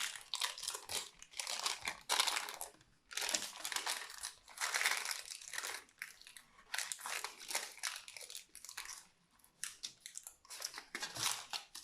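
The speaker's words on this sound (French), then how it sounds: "Et le papier sulfurisé, vous voyez, il s'enlève tout seul." Parchment paper being peeled away from a dried home decor craft piece: close, crisp crinkling and crackling in irregular bursts with brief pauses, no talk.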